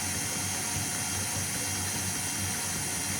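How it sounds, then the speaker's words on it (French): Rapid ratcheting clicks from a mechanical kitchen timer being wound while making a pure-butter brioche with candied lemon, a steady close mechanical whir with no voices. "je mets mon chrono"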